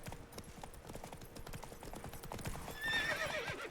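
Roach, a horse in The Witcher 3: Wild Hunt, clip-clops along with steady hoofbeats before letting out a loud, shrill whinny near the end.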